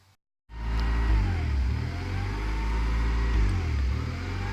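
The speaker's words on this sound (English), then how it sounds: "good news is the black Honda's battery's starting." A black 1990 Honda Accord EX engine turns over after a brief silence, then settles into a steady, loud, low idle that holds through the rest.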